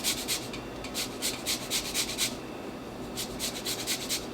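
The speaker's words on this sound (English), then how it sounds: "I'm gonna just zest this lemon" Quick scraping strokes of a zester across a lemon rind, two bursts of rapid rhythmic rasping separated by a short pause, close and fairly quiet over a faint background hum.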